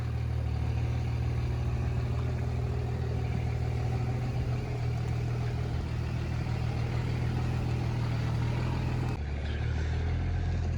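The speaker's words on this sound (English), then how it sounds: "We're gonna try to get the truck turned around to back out." A truck engine idles with a steady, close, low rumble and mechanical clatter while the vehicle is maneuvered to turn around and back out. The tone shifts and thins near the end.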